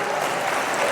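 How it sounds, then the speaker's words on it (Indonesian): Audience applause at a Halal Bihalal gathering, a dense steady wash of many hands clapping that fills the whole short moment at even, moderate loudness. "Tepuk tangan untuk kita semua"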